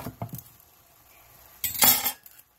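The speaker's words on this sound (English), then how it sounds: "you chop the ends off the onion, then cut it right down the middle" A knife cuts through an onion on a board: a few quick taps near the start, then one louder, crisp slicing crunch late in the clip, followed by quiet.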